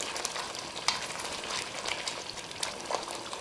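Spinach and mutton cook in hot oil in a pot for palak gosht, giving a steady close sizzle and frying hiss with occasional stirring scrapes, no talk.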